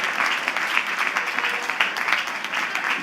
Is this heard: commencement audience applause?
yes